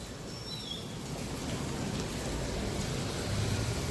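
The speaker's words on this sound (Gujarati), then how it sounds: "થઈ ગયો ને વરસાદ ચાલુ." Heavy monsoon rain falls steadily outdoors, producing an even wash of hiss that stays constant from start to finish, with no voices.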